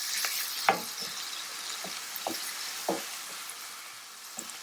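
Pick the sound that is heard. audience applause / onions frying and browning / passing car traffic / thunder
onions frying and browning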